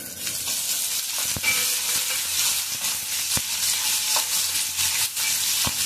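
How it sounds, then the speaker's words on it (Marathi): Chopped onion sizzles loudly in a pan over a high flame while a spoon stirs it, a dense continuous frying hiss punctuated by occasional soft scrapes and taps, close and without talk, for pitale bhaat. "कांदा, कांदा छान नरम करून घ्यायचं."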